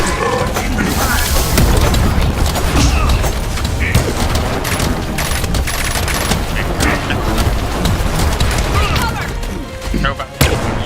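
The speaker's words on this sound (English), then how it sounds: "Launch detected! Take cover! Rocket explosive!" Rocket launch and explosions in a video game, a dense loud barrage of booms and crackling gunfire with shouted voices mixed in.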